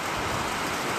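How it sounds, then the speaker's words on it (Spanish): Steady rain falling across a rooftop, a dense even hiss with no breaks, heard alone and close for the whole moment. "Ahí está cayendo la lluvia."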